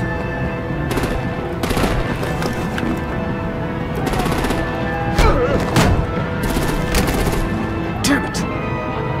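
Dense gunfire and artillery in the Batman: The Enemy Within video game, rapid bursts of automatic fire and heavy booms crowding together loud and continuous, with shouted voices mixed in.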